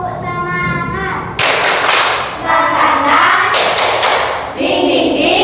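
Primary schoolchildren in a classroom perform a tepuk semangat clapping cheer, sharp bursts of group claps falling into a rhythmic pattern, with children's chanting voices heard before and between the claps.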